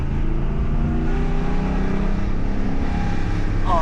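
A Jeep SRT8 V8 engine rumbles loud and close with a deep, steady drone and layered low harmonics that rise slightly in pitch toward the end.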